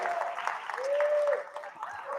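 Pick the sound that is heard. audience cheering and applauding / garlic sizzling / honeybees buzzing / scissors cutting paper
audience cheering and applauding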